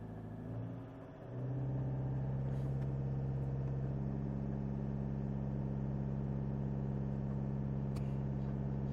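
A diesel engine with a DPF regeneration issue and an engine oil level fault code runs in gear under load. It gives a steady, loud, close drone with a brief shift in tone early on, then holds an even rumble throughout.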